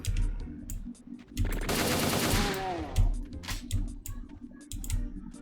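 Automatic gunfire from a modded weapon in a first-person shooter map pack, heard as dense, rapid bursts of close shots with a sustained rattling barrage in the middle.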